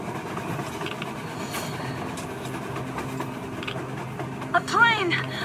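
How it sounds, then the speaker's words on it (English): In the video game Metro Exodus, a steady rumbling train with faint clattering, heard from a distance under ambient noise and occasional voices, ending with a brief squeal. "A train! A damn train on the surface!"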